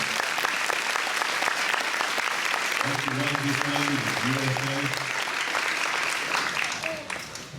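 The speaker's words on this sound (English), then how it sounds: "Let's give them another round of applause." A school assembly crowd at a Veteran's Day event gives loud, sustained applause. The dense clapping fills the whole stretch and eases off at the close, with a voice speaking over it.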